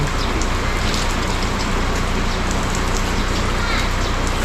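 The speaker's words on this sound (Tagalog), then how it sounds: "Pero dito sa amin, walang tigil ang ulan. Mula kagabi pa yan." Heavy, steady rain pours down without a break, a dense, even hiss of drops drumming on surfaces close by, loud and constant for the whole stretch, with no voices over it.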